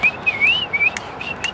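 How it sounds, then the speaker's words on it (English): A person whistles a bouncy, wavering scat-style tune up close, short sliding notes broken by brief gaps, with a couple of soft clicks in between. "maybe I could like whistle and scat, go."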